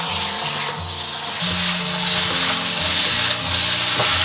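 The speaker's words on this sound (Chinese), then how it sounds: "然后翻炒均匀。" Braised pork pieces with cinnamon, star anise, bay leaf and a splash of cooking wine being stir-fried in a wok, under a loud, continuous sizzle with spatula scraping and a low hum, close, no speech.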